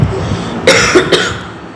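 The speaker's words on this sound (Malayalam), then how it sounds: "എനിക്ക് നല്ല ചുമയാണ്" Two sharp coughs a moment apart from a person with a bad cough, close and fairly loud, over a quiet room hum.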